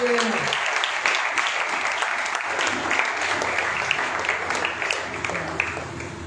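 An audience at a school ceremony honouring SSC exam toppers applauds continuously, a dense, steady round of clapping from a crowd with no break.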